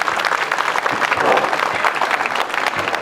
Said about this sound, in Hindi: तो एक बार जोरदार तालियां होनी चाहिए टैलेंट हब के लिए।